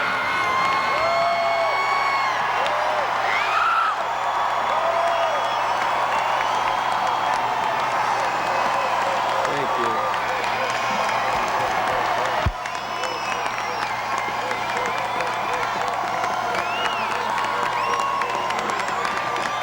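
A Minnesota crowd cheers and applauds for Walter Mondale on election night 1984, sustained clapping with whoops and shouts filling the room continuously, loud and dense throughout.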